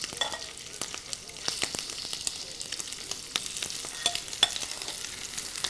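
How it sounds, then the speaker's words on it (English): Quiet, steady sizzling and popping from shrimp frying in a pan for shrimp scampi, with scattered crackles and a few light clicks throughout. "You want to hear that sizzle."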